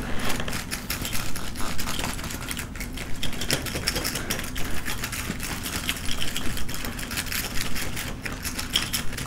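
Coins and a set of car keys jingle and clink in a pocket, a steady, close metallic rattling that continues for several seconds with no talk.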